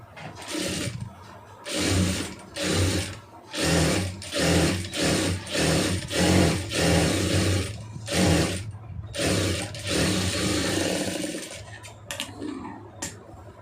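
Sewing machine stitching a folded quarter-inch edge on a designer sleeve, running in a series of loud, close bursts of rapid stitching separated by brief pauses, with no talk.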